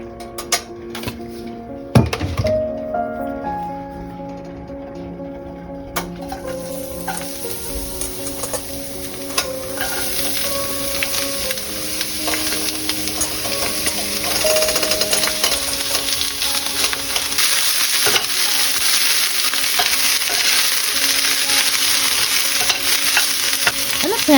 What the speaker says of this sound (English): As soon as the pan is hot, the cabbage goes in.